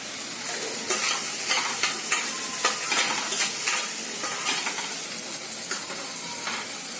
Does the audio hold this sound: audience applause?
no